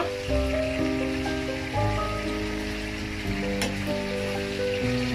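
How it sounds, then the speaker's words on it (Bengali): Tuna kababs frying in hot oil give off a dense, constant sizzle, close and fairly loud, with a faint crackle and no voices. "এখন 1 পিঠ না হওয়া পর্যন্ত আমি মাছগুলো ভাজবো"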